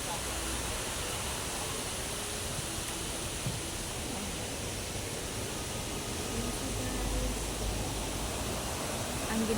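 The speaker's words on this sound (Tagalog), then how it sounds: "Ayan, falls siya. Kasi may falls siya doon." Waterfall at a pagoda park display during Chinese New Year, a constant broadband rush of falling water heard throughout with a voice talking faintly beneath it.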